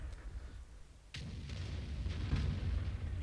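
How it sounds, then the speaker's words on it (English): In World of Tanks, a round from a T29 heavy tank's opponent glances off the armor with one sharp metallic crack, followed by a low, rumbling roar of engine and battle noise that swells afterward. "BK bounces the shot off of me."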